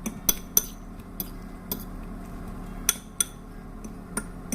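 A metal spoon clinks against a bowl while breakfast ingredients are stirred, with about ten sharp, distinct taps spaced irregularly over a quiet, low background hum.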